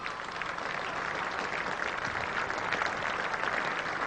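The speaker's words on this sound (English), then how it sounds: "Rightly applauded" Spectators at an England versus Australia Test cricket match applaud a well-struck shot, a dense, even patter of clapping that carries steadily throughout with no voices over it.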